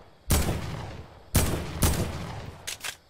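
Four or five loud gunshots from Fortnite, each followed by a short decaying tail, with a quick double shot near the end and no voices.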